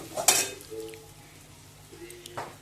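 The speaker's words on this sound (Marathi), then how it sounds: "छान अशी आम्हाला जरा घट्टमुट्ट भाजी लागते जरा चांगली अशी चांगला परतून घेते मी त्याला खोबऱ्याच्या कुटला" Vegetables sautéed with ground coconut in a pan: a metal spoon scrapes and clinks against the pan twice amid a soft frying sizzle, close and moderately quiet, with no talking.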